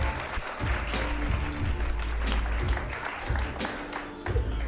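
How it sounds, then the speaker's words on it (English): A comedy-show audience applauds as improv players return to the stage, with a close, uneven patter of clapping and a few sharper individual claps standing out across the room. "And welcome them with some applause, please."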